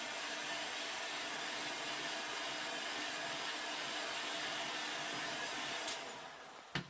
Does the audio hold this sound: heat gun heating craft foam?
yes